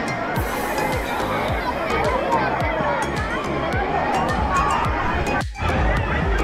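A busy water park crowd gathers by a slide in Virar, Mumbai, a constant babble of many voices with shouts and repeated splashing or thumping rhythm, fairly loud and close, with talk mixed in.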